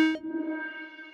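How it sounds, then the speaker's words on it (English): A Lorre-Mill Keyed Mosstone synth runs through a Death by Audio ROOMS reverb, producing a brief, steady, harmonic-rich tone with a sharp onset that lingers quietly. "Nice filter sweep."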